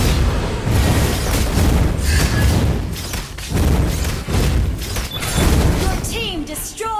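A turret is destroyed in the Mobile Legends battle game with a string of heavy booms and bursts, loud and dense throughout, over a busy bed of game effects, music and an announcer-style voice.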